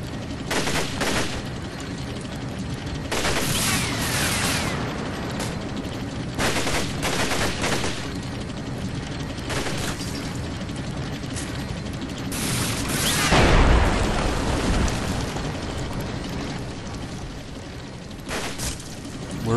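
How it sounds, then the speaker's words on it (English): A tank fires in the Combat Mission war game, with a series of loud crackling gunfire bursts and booms spread across a dense battle soundscape, one heavier blast standing out near the end. "Got my tank to fire here briefly."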